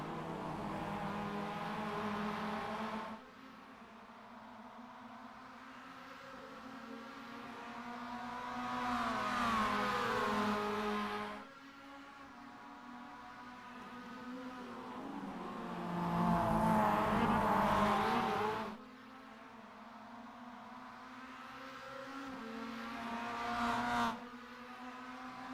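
Mazda MX-5 Cup race cars in a sim racing game, engines rising and falling in several loud sweeping revs as they work through the final corners, with steady drone between passes.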